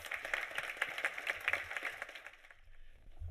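Audience applause for a speaker at a climate symposium, a dense wash of many hands clapping at moderate distance that fades out toward the end.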